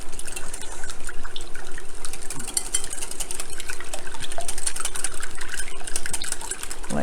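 Eggs for a hash brown and sausage casserole are whizzed together, making a loud, continuous whirring and splashing churn that stays steady throughout.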